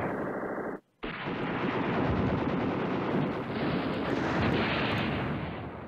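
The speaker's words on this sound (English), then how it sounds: "See if we can get this artillery off." Artillery fire rumbles in the Command Ops 2 wargame, a dense, continuous roar of booming blasts that cuts out briefly after a short quieter intro and then sustains loudly to the end.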